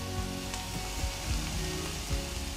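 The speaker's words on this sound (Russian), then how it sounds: "Добавляем наши овощи. Здесь уже пошло сразу все. И баклажан, и кабачок, и болгарский перчик." Eggplant, zucchini and bell pepper sizzle steadily in a pan, a soft continuous crackle with a few faint stirring scrapes, heard alone at low volume.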